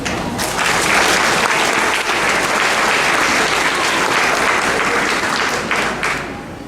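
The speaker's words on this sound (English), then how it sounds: "let's give them a round of applause" An audience at a school awards ceremony gives loud, sustained applause. Dense clapping holds even for about six seconds, then tapers off at the close.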